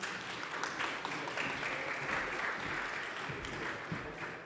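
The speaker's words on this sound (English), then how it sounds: "Let's give her a big round of applause." Audience applause welcoming a speaker onto the stage at a panel on product-market fit at the Proof of Talk 2024 conference, sustained clapping from a crowd at moderate volume, steady throughout.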